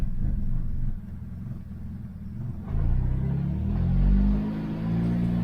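Turbocharged Toyota Corolla with a manual transmission pulling away in first gear as the clutch is let out, a steady low engine rumble that swells and rises in pitch toward the end, close by with no talking.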